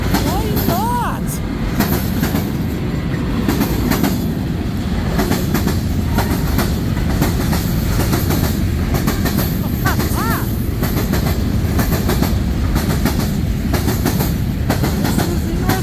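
CN freight train L563, the northbound Woodtick, led by locomotive 3368, a rebuilt former BNSF Dash 9-44CW, passing at Ladysmith, Wisconsin: a loud, continuous rumble and clatter of rolling cars with faint wheel squeals and a brief horn-like tone near the start.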